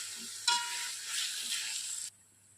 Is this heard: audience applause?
no